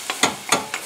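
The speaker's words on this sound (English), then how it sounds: "So we'll just cook these apples" Apples cooking in a pan for a pie filling, giving a soft, close sizzle broken by a few short stirring scrapes about every third of a second.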